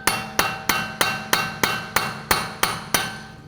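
A hammer strikes a punch to free the right rear CV axle from the hub of a Buick Encore, about ten sharp metallic taps in a steady, quick rhythm, close and loud.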